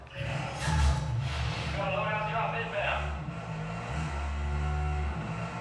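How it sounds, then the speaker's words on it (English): A car engine hums and revs steadily with low rumbling tones, heard under someone talking, consistent with driving in a video game. "Let's drive a car."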